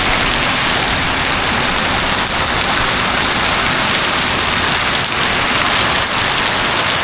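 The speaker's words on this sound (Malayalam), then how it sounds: "പൊരിഞ്ഞ മഴ." Heavy rain pours steadily beside a roadside tea shop on a trip through Kashmir, a dense, unbroken hiss that stays loud and close for the whole stretch with no voices.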